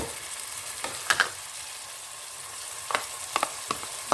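Ground coriander and canned chopped tomato puree fry in a pan, a steady close sizzle broken by a few sharp spoon taps and scrapes, with no talking.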